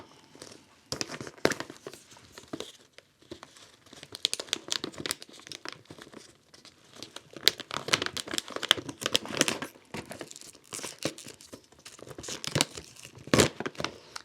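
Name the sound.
opening a plastic bag of paraffin wax pellets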